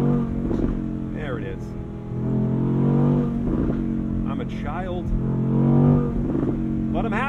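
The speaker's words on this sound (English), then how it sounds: "a convertible supercar with a fantastic engine, because you can make excellent noises" A powerful Audi R8 Performance Spyder RWD convertible supercar engine revs and surges in bursts, loud and close, with people talking over it throughout.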